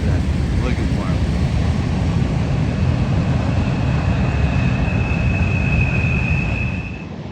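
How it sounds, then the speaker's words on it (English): A train passes by outdoors as a loud, continuous rumble and roar that fills the whole stretch, with a faint high whine near the end and no distinct clatter rising above it. "We got the train going by"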